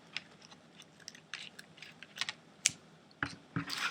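Scissors trimming the edges of a chiffon ribbon knot on a Valentine lollipop wrapper, heard as a few quiet crisp snips and clicks close by, sparse and faint against a low room background.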